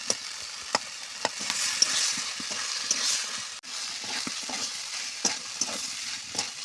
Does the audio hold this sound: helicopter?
no